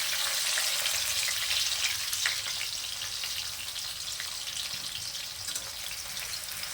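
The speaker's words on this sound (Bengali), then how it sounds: "সেটাকে যতক্ষণ না কাঁচা পেঁয়াজের গন্ধটা না যায় ততক্ষণ এটাকে ফ্রাই করব" Onions sizzle steadily in hot oil in a wok, a continuous bright frying crackle with some faint stirring and no voices.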